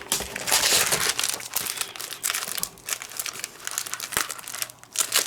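Sheets of paper from a Tonic Studios Nordic Diamond Bauble craft kit are handled close up, crinkling and rustling in uneven bursts, with no talk.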